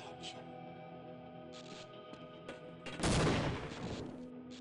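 Sniper rifle fire in the video game Half-Life, with a sharp loud burst cutting through a hum of game ambience, plus a few brief clicks before it.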